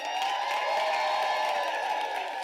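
A crowd at a University of South Africa autumn graduation ceremony applauds and cheers, a steady wash of clapping that stays loud and even for the whole stretch.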